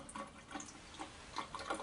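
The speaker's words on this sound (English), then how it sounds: "So I drain this water" Rice rinse water draining out, a soft, brief trickling and splashing of running water, faint and close, with no voices.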